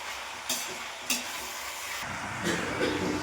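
Pieces of country chicken stir-fry in a hot pan for a Tamil-style fry, with a continuous sizzle broken by a few sharp scraping stirs of the spatula.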